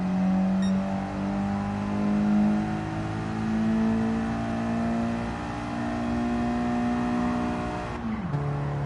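A race car in Gran Turismo 7 revs steadily through the gears, with a sustained buzzing engine note that rises and holds for several seconds, then drops sharply near the end as it shifts into fifth gear.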